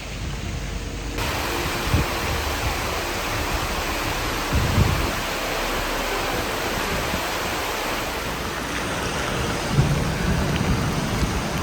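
Dense, steady downpour hissing across the whole clip, with occasional low rumbles and thumps beneath the constant wash of rain.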